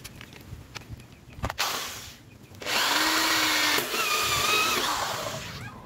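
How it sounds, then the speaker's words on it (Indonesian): A power drill bores a hole in PVC pipe for a homemade well water filter, giving a few brief revs and then a long, loud, steady whir, with some knocking handling noise before it starts. "pengeboran lubang untuk saluran kontrol air bersih dan pembuangan limbah media saring"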